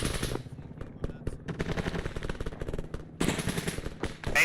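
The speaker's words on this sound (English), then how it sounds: "I got my 240 singing on it" An M240 machine gun hammers in a military video game battle, firing long rapid bursts that stay loud and dense across the clip, with a brief lull before another heavy stream of fire.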